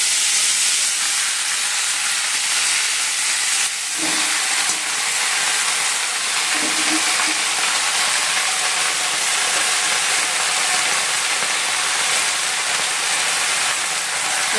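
Panch phoron spices frying in hot oil for a spinach dish, a steady loud sizzle and hiss that goes on throughout, with a brief clatter of a utensil near the middle.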